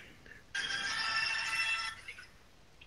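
A phone rings in an Arma 3 session, a loud steady electronic ringtone lasting about a second and a half, with faint background noise before and after.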